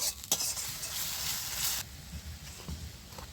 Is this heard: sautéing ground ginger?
yes